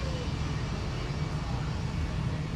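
A Delta CRJ-200 regional jet with a Northwest registration taxis past an airport viewing area on taxiway Whiskey at Minneapolis–Saint Paul, its engines giving a steady, broad, rumbling whine that holds evenly throughout.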